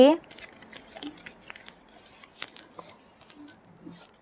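Tarot cards being handled and shuffled during a reading, heard as soft papery crinkles and light flicks, with a voice speaking intermittently over them.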